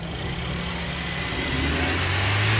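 Mercedes A180 engine revved under the open bonnet while its overheating and thermostat are checked, a steady close-up roar that rises slightly in pitch toward the end.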